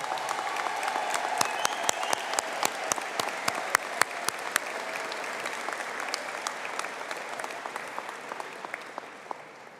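An audience at a university conferring ceremony for the Faculty of Business and Hospitality gives a full round of applause. The dense, sustained clapping fills the hall and gradually thins and fades toward the end, with no talking over it.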